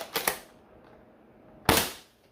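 Two quick pops from a Dart Zone Max Stryker 2.0 blaster firing Nitro Shot darts, a close double shot followed after a short pause by a single sharper, louder shot that trails off.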